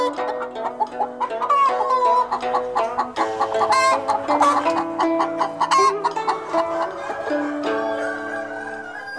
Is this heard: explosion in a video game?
no